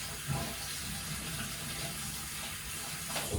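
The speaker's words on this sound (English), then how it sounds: "Wash some of that oil off my hands." Tap water runs steadily from a faucet into a sink while oil is washed off hands, a continuous close rushing splash with no talking.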